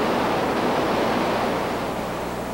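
Guadalupe River floodwater in downtown San Jose pouring over its banks, a loud, steady broadband roar of rushing water that fills the whole stretch without pause, with no voices.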